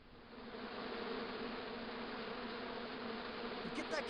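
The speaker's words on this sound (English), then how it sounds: "As I walked towards the bush, it started buzzing angrily." Insects swarm angrily inside a bush in the Broken Sword video game, making a steady, close, dense buzz that holds without a break, with a faint higher tone joining near the end.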